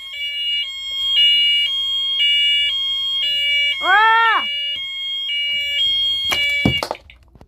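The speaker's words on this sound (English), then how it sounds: "I walked out for 2 seconds and the alarm is going off!" A room alarm system goes off after being activated, sounding loud repeating electronic beeps in a steady on-off rhythm. A voice briefly exclaims in the middle, and a sharp noisy burst comes near the end.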